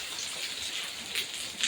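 Steady rain falls as a soft, even hiss, with a few slightly louder patters of drops landing nearby.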